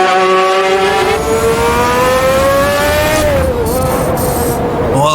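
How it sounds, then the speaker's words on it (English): A Honda V12 Formula One car screams at Silverstone in the Automobilista 2 racing game, a loud, continuous high-pitched wail that climbs steadily through the gears, briefly dips on a shift, then rises again. "This fantastic car was powered by a Honda V12 and is said to be one of the best sounding Formula One engines of all time"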